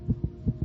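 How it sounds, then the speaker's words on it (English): Quick, muffled racing heartbeat of a young child, thumping in pairs, low and pulsing, heard up close with a faint hum underneath. "This is the sound of a racing heart."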